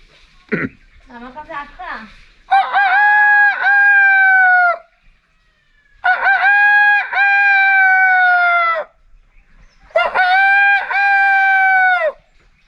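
A person imitates a rooster crowing three times, each call a long, loud, drawn-out warble, after a few short vocal sounds at the start.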